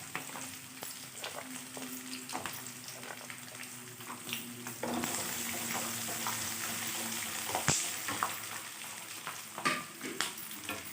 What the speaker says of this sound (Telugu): వెల్లుల్లిపాయలతో ఫ్రై చేయండి, చాలా బాగుంటుంది